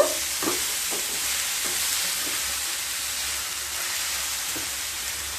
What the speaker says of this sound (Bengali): আবারও খুব ভালোভাবে মিশিয়ে নেব।